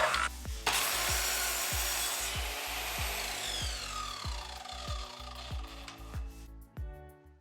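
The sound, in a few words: sawing wood legs for a DIY cat house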